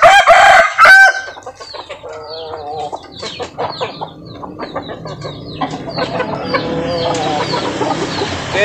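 Five-month-old Pakoy pitbull chickens: a loud rooster crow opens, then a run of close, irregular clucks and calls builds into a busier coop chatter.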